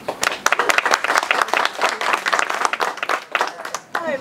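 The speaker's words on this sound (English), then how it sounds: "They're cheering for you, not for Kevin." A crowd at an Iowa House campaign event claps and applauds, a dense burst of many hands close by and continuing throughout, with some voices mixed in.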